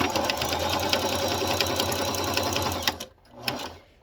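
A sewing machine stitches salvaged fabric squares for a pot holder, with a close, loud, steady mechanical whirr that stops near the end, followed by a brief clunk.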